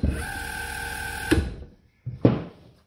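Emco Unimat 3 lathe driven by an upgraded 550W servo motor runs with a steady whine, stops, then gives a short second burst, close and fairly loud with no talking.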